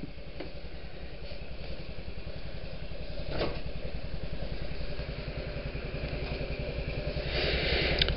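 A Honda Jazz/Metropolitan scooter engine on a ride to and from a store, a small engine's steady buzzing putter heard close with wind and road noise, rising slightly in pitch partway through.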